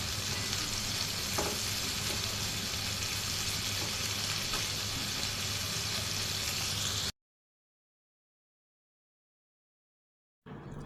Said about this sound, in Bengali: এখন মাছের যে মশলা ছিল সেখানে একটু পেঁয়াজ মেখে পেঁয়াজগুলোকে ভেজে নিচ্ছি